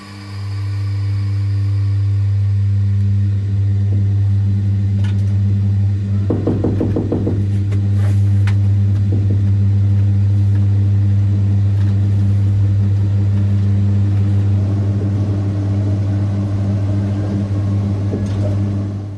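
Inside the cab of BB 15064, an electric locomotive departing Charleville, a loud steady electrical hum drones throughout, with a brief burst of clunking and rattling as it starts to move.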